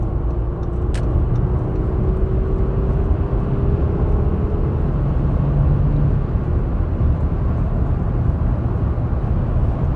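Engine of a high-mileage Audi A6 Avant V6 accelerating on the A31 road, a steady loud in-car drone with a rising tone, no talk over it.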